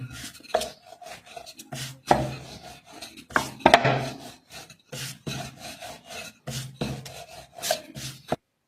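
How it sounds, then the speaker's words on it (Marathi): A rolling pin works wheat-flour dough for dashmi flatbread on a board, giving repeated soft rubbing strokes with dull wooden knocks in an uneven rhythm, close and fairly quiet. "गव्हाचं पीठ लावून दशमी लाटून घ्यायची आहे छान असं गोल आकारावर"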